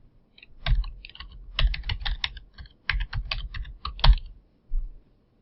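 A computer keyboard is typed on up close for a password, with clusters of crisp key clicks in quick bursts separated by short pauses, then a final keystroke before silence.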